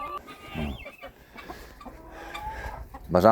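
Newly bought laying hens cluck close by in short bursts, with a louder outburst near the end, over a low rustling background.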